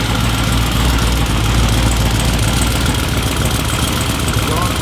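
Twin-turbo Corvette C7 engine with new exhaust on its first start, running on old fuel and idling steadily with a loud, constant low rumble and rough vibration throughout.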